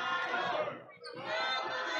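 Wrestling crowd at a Studio 86 show featuring Movado roars and chants in loud, dense waves, dipping briefly mid-way before surging again.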